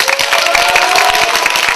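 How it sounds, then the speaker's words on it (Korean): A crowd at a public radio broadcast lecture claps hard and loudly, many hands beating in a dense, fast, continuous patter close to the microphone with no speech. "여러분 저에게 박수 한번 세게 쳐주시겠습니까?"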